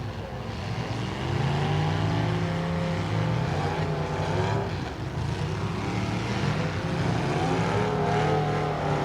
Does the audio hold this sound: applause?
no